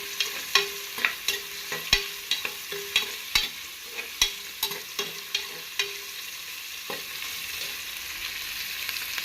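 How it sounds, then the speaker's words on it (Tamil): Onions sauté in a pan for a chicken curry, with a soft steady sizzle broken by a rhythmic series of sharp spoon scrapes and taps as they are stirred, close and alone. "வெங்காயம் நல்லா கொஞ்சம் பொன்னிறமாக வதங்கணும்"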